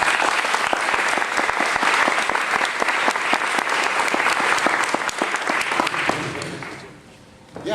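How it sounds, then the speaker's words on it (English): Applause from the audience at a candidates and issues forum for a community council: a loud, dense, sustained clapping that tapers off near the end. "Everybody give them a round of applause."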